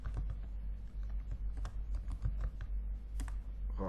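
Quick, uneven tapping of keys on a computer keyboard while typing Python code, close and moderately quiet over a faint steady hum, with no speech.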